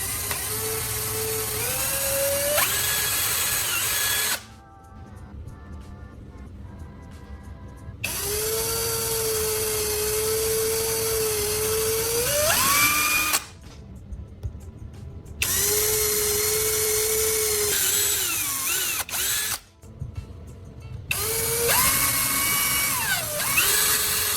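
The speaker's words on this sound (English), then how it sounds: "Then drill 3 clean holes just deep enough for the screws to fit firmly without cracking the wood." Whining power drill boring holes in wood, run in three long bursts with rising and falling pitch as the bit loads and frees, separated by short quiet gaps, close and loud.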